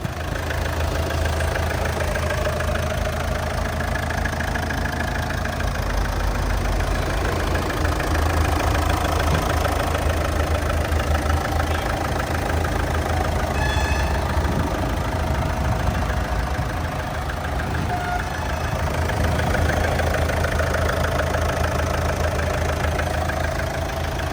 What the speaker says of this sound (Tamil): இப்போ வந்து இந்த வண்டியோட இன்ஜின் நாய்ஸ் நான் உங்களுக்கு எப்படி இருக்குன்றதை காட்டுறேன்